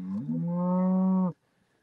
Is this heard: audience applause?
no